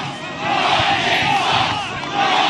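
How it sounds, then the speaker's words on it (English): Large crowd cheering and shouting, a loud, sustained roar of many voices that swells after a moment and holds steady, dense and close. "What a crowd!"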